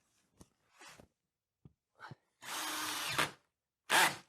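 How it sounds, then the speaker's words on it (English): A power drill drives a screw through drywall into a stud, starting with a few short hesitant bursts, then one sustained whirring run and a final brief loud burst, close and alone. "let's put a screw in and see if it hits it"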